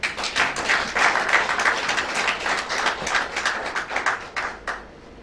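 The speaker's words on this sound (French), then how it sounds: "Si vous pouvez applaudir pour lui" An audience at an association's speech event applauds in a dense, steady burst of clapping that carries on for several seconds before tapering off near the end.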